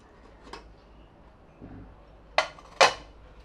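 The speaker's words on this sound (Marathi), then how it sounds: "प्रेशर गेलेलं आहे कुकर उघडूया आता" After its pressure is released, a steel pressure cooker holding mixed-pulse khichdi is opened, giving a soft knock followed by two sharp metallic clicks in a quiet kitchen.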